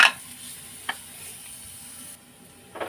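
Garlic and onion sautéing in a pan for eggplant adobo give a soft, steady sizzle with a few sharp clinks of a utensil against the pan.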